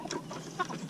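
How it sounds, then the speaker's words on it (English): A chicken on an urban farm clucking softly up close in a short, brief burst. "The chickens like me to hold them sometimes."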